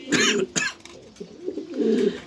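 An Afsan grizzle beauty pigeon gives low, throaty coos close by, with two short breathy bursts at the start and a longer murmuring coo toward the end.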